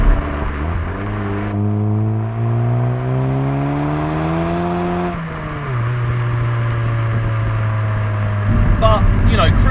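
A 2017 Volkswagen Polo GTI with a six-speed gearbox drives at motorway speeds. The engine note climbs steadily in pitch for about five seconds, drops sharply at a gear change, then settles into a steady cruising hum.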